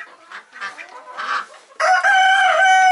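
Roosters on a farm, five birds in all, clucking softly at first, then one bursts into a loud, sustained crow close by, with no talk over it.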